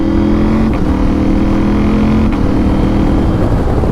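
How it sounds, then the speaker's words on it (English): A Norden 901 motorcycle engine drones steadily and loudly at close range while the rider shifts with the quick shifter, the tone breaking briefly at each smooth gear change. "Let's go downshift and just see what happens."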